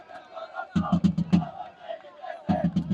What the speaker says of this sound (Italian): un gruppo ultra rumoroso e appassionato